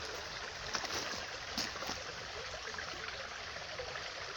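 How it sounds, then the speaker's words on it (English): A small trickle of river water in Carndonagh, shrunk to little more than a drain, flows in a steady, soft, close hiss with faint splashes and no talking. "This is where the river should be flowing. Little trickle, basically a drain now, not a river."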